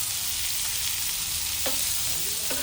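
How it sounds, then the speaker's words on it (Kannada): Food frying in a pan makes a dense, loud, continuous sizzle, close up and steady for a few seconds with no voices. "ಈಗ ಫ್ರೈ ಮಾಡ್ತೀವಿ."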